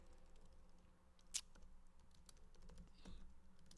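Soft, scattered keystrokes on a computer keyboard, faint and close, with one sharper click partway through against a quiet background hum and no voices.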